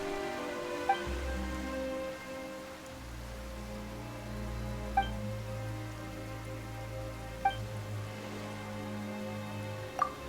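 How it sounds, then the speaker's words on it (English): Rain falls in the fantasy world of Genshin Impact, a soft, steady patter under a quiet, sustained musical score, with a few faint chiming accents. "Why is it raining all of a sudden?"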